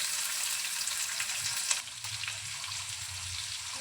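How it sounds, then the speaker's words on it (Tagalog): Chicken sautés in a hot pan for pancit cabagan, a loud continuous sizzle and crackle that drops slightly partway through while frying goes on. "Ayan, pinito ang chicken."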